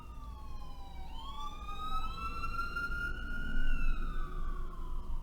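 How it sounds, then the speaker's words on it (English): An ambulance siren passing by, its wailing tone sweeping up and down as it draws closer and grows louder over a low street rumble, with no voices. "Because we heard that ambulance passing."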